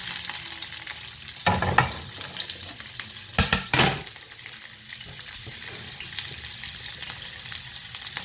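Onions sizzle steadily in a hot pan for a macaroni, broccoli and shrimp meal, with a few louder bursts of scraping and stirring in the first half before the frying settles back to a constant crackle.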